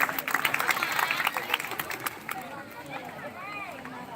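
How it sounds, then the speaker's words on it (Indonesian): Audience at a live stage event clapping and cheering after a host's call, dense applause with crowd noise that stays loud at first and then thins into softer babble with voices rising over it. "untuk memberikan aplaus, tepuk tangan yang meriah"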